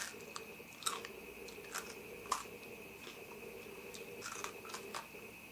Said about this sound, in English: I love crunching on the bone.